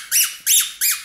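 A squeaky Squeakee balloon dog toy gives three loud, high squeaks in quick even succession, each rising and falling in pitch, with silence between them.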